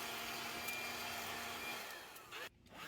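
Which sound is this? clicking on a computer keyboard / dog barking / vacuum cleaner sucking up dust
vacuum cleaner sucking up dust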